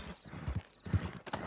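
Horse hooves clip-clop in Red Dead Redemption 2, with a few soft, uneven steps and quieter pauses between them, heard close and moderately loud.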